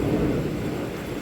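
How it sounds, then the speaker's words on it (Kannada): A deep, loud roll of thunder rumbles through a heavy downpour, a brief continuous swell of low booming over the hiss of rain. "ಗುಡುಗು ಮಳೆ ತುಂಬ ಜೋರಾಗಿ ಆಯಿತು"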